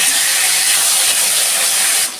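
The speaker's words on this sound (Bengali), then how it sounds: "ফোড়নে দিচ্ছি আমি একটা শুকনো লঙ্কা, দিচ্ছি একটা তেজপাতা, আর দিচ্ছি কটা সাদা জিরে, দিচ্ছি একটা টমেটো।" Dried chilli, bay leaf, cumin seeds and tomato hitting hot tempering oil for a vegetarian drumstick and pumpkin dish, a loud, continuous sizzling hiss that eases slightly at the very end.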